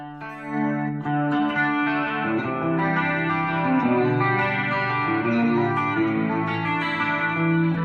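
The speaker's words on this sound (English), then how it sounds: "So if you want to hear a flanger, here's a flanger." Sustained electric guitar chords through a Fender Super Champ X2 amp ring out through a swirling, sweeping flanger effect, harmonics shimmering and whooshing over several seconds, with no voices.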